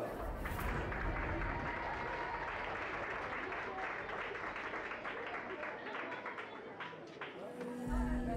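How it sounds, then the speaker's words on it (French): Applause from spectators at a 2019 GOF dressage Club 2 Major prize ceremony: a dense, steady wash of clapping that holds for several seconds and swells again briefly at the end. "je vous demanderai d'applaudir la remise des prix du dressage Club 2 Major"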